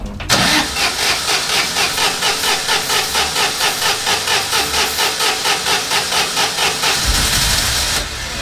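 Citroën 2CV engine cranking at full throttle with no choke, a fast rhythmic starter churn repeating loud and close for about seven seconds, then the engine catching and the cranking stopping.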